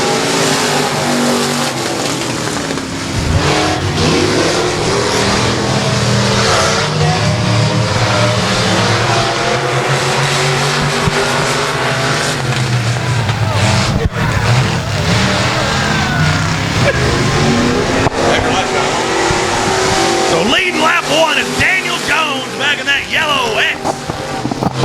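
Race cars roar off the green flag at Texarkana 67 Speedway, a loud, continuous blend of revving engines and passing cars with a wind-buffeted microphone and a crowd-like wash throughout.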